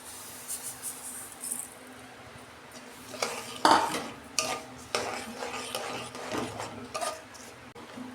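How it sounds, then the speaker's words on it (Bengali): Sesame seeds tipped into a pot of boiling jaggery and stirred, with a spoon scraping and clanking against the pot in irregular bursts over a low bubbling background. "এই যে আমি তিলটা দিয়ে দিচ্ছি"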